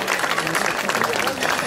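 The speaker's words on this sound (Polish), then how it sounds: "proszę o brawa dla Tomka Dziubińskiego" A loud, dense wash of audience applause at a rock'n'roll anniversary event in Poznań, steady and unbroken across the short stretch.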